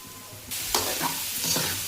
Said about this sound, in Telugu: ఇక్కడ ఇంకా రొయ్యలు మగ్గుతున్నాయి